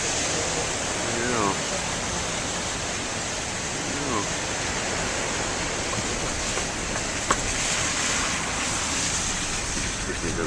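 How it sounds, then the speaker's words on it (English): Ocean waves collide against each other at a beach inlet, making a steady broad roar of surf with no distinct breaks and a voice faintly present. "the waves were going that way and then the other coming this way. They crashed against each other."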